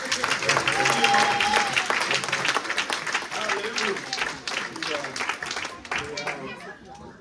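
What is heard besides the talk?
audience applauding a mother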